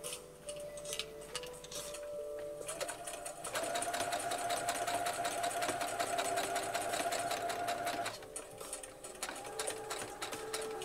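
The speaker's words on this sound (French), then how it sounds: "Et je n'ai plus qu'à tout simplement aller coudre à la machine." A sewing machine stitches lace and linen for a crown, running in a steady rapid whirring hum close by. It speeds up into a louder stretch midway before easing back, with no talking.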